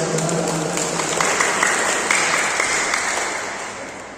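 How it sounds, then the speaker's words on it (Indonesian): Audience applause at a Buddhist Dhamma talk, a dense, steady wash of many hands clapping together that stays loud for several seconds, then gradually thins and fades toward the end. "Tepuk tangan dulu buat kita."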